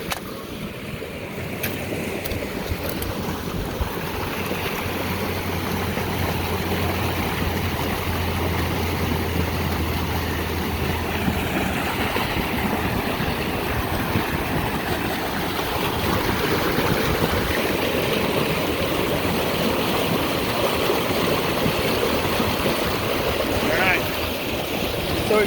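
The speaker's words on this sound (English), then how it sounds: "the water's already flowing" Irrigation water flows steadily through a ditch in the high desert, a continuous broadband rushing and gurgling that stays close and even throughout, with no talk.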